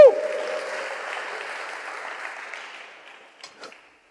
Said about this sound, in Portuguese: Alguém se empolga com isso e pode aplaudir bem forte ao Senhor?